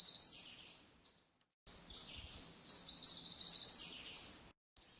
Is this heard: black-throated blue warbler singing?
yes